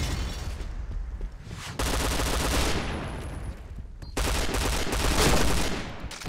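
Sustained bursts of gunfire in a shooter video game, loud and dense with a brief lull near the middle before the shooting picks up again; no voices.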